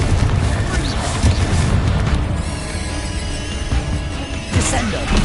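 Confringo fire-blast spell exploding during a Hogwarts Legacy combat fight, with a loud booming crash near the start and another blast near the end over a dense, continuous din of battle noise.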